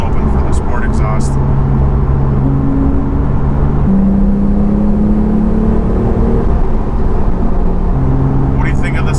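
Porsche 911 Carrera T with sport exhaust valves open, engine held near 4,000 RPM, gives a loud, steady droning induction and exhaust hum heard from inside the cabin, the pitch shifting in a few stepped changes, with brief higher noise bursts at start and end.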